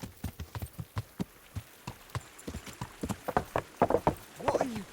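Horse hooves clip-clop in Kingdom Come: Deliverance, a steady rhythmic trot of many hoof strikes, moderately close, with voices speaking over them toward the end.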